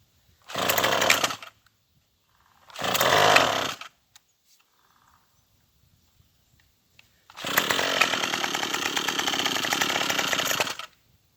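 A Troybilt TB21ec gas pole saw engine, running cold on half choke, fires in two short revving bursts separated by silence, then runs loudly and steadily for several seconds before cutting off.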